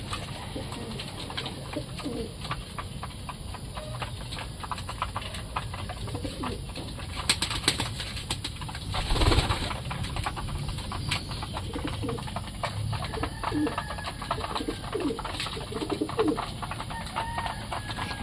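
Pigeons cooing steadily in a pigeon loft, with a brief burst of wing flapping midway, all under a constant hiss of background noise.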